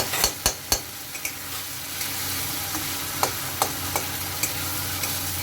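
Meatball curry being sautéed in a pan with water added a little at a time, giving a steady low sizzle punctuated by sharp spoon-against-pan stirring clicks, close and moderately loud with no voices.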